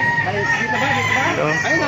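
A rooster crows loudly nearby, with chickens clucking and a faint voice in the background.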